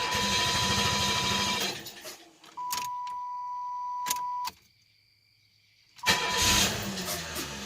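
A Lumina Eurosport with a 3.1 V6 and a suspected fuel pressure regulator fault cranks and sputters, with rough bursts of engine noise, a near silent gap broken by clicks and a steady tone, then another rough surge.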